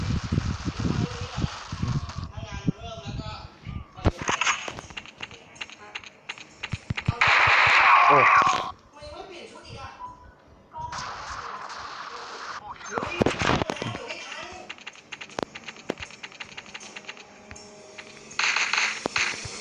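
Gunfire in the shooter game Crisis Action crackles in quick bursts and scattered single shots throughout, while a player talks over much of the action.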